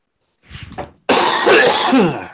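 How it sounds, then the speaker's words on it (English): A single harsh, loud cough, preceded by a short throat-clearing sound, close to the microphone. "Cough in your ear here."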